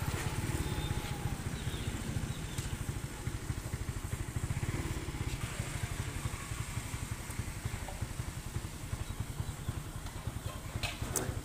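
A motorcycle engine idles at a petrol pump, a steady low putter with faint clatter running throughout at moderate distance, with no talk over it.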